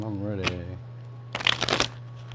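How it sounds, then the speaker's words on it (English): A deck of tarot cards is riffled in a quick shuffle, two short bursts of crisp flapping and snapping, heard after a brief stretch of a voice speaking over a low background hum. "So we'll do one more shuffle and I'm ready."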